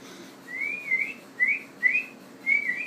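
A person whistles short, rising two-note calls to summon Buttercup, four clear chirp-like whistles in a loose rhythm, close and moderately loud over quiet room noise.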